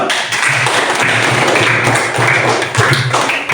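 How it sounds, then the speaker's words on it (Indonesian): A classroom of students clapping for group presentations: a loud, dense patter of many hands that runs steadily from start to finish. "Tepuk tangan dulu"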